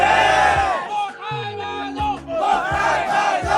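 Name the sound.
group drinking chant and cheer, Mo Tha Ba Zo, Vietnam mountains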